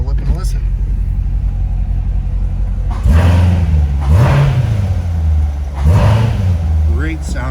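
A 2019 Corvette Grand Sport 1LT with dry sump and 7-speed gearbox idles with a deep, loud rumble, and three throttle blips swell and fall back to idle, heard from close by outside the car.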